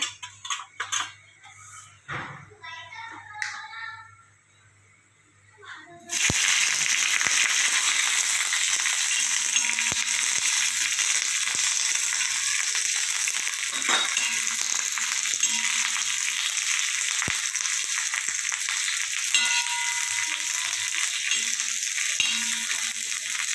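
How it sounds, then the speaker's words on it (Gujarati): Green chillies frying in oil on an iron griddle, a loud steady sizzle that starts abruptly after a few quiet seconds of faint clicks and then continues unbroken, with occasional sharp pops and ticks. "આવી રીતના તળાઈ ગયેલા મરચાં થાય ત્યાં સુધી એને ફ્રાય કરવાના"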